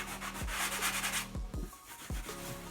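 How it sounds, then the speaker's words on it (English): Brisk back-and-forth rubbing of a sanding block against a wall, rhythmic scraping strokes up close with a few thumps. "take a sanding block, sand it down, get all the rough places off"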